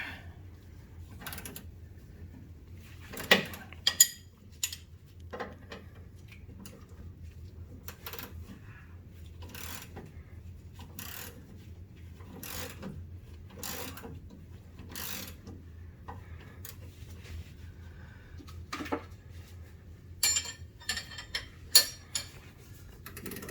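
A wrench with an extender ratchets a sway bar link nut during a rear sway bar link repair, giving sparse, close metallic clicks in short irregular runs over a quiet low hum.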